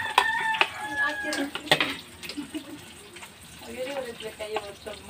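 Chickens cluck and a rooster crows nearby, with scattered bird calls, light background clatter and people talking quietly.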